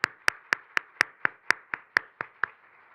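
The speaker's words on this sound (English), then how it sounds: "may I request you to give once again a great applause to all the the 4 panelists and also to the 2 keynote speakers" Crisp, isolated hand claps sound at an even pace at an international partnership forum, about eleven in a row. They come from a single nearby clapper, with no talking over them.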